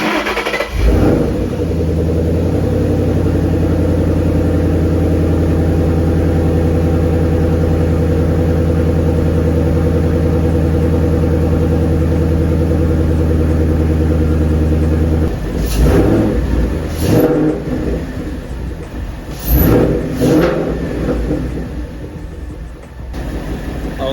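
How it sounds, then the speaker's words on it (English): A 2013 Ford Mustang GT V8 fitted with a new intake cranks and fires up, settling into a loud, steady idle close by for about fifteen seconds before several sharp revs rise and fall. "let me go ahead and start it up and give you guys some revs with the new intake"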